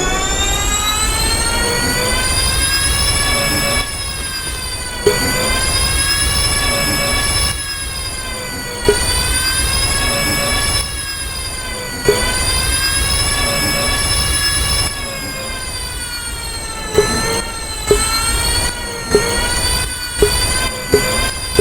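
A Porsche sports car engine in the Driving Empire video game runs loud and steady, its pitch rising and falling through repeated revs and gear changes, with short sharp shifts clustered near the end.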